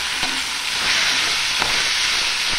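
Chopped chayote sizzling in a hot pan for chutney while a utensil stirs and scrapes it, with a few sharp clicks of metal against the pan.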